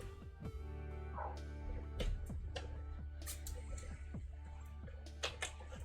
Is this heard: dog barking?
yes